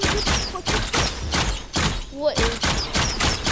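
Ray gun firing in the video game Fortnite gives a series of loud, rhythmic zapping blasts about every half second, with a player talking over the shots.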